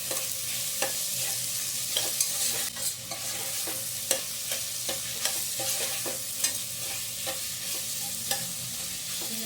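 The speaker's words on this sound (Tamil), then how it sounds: "இப்போது ஒரு 4 சின்ன வெங்காயம், 4 சின்ன தக்காளி போட்டிருக்கேன்." Garlic, small shallot-type onions and small tomatoes sautéing in a pan for Karnataka-style bisibele bath, a steady close sizzle and frying hiss broken by repeated sharp clicks and scrapes of a spoon stirring, with no talking.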